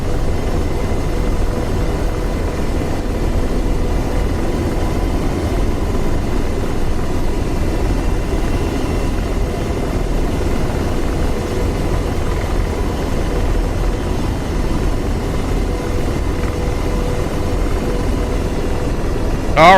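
Steady rotor and turbine drone of an AH-64 Apache helicopter in the combat flight simulator DCS World, a constant loud hum throughout with no clear changes.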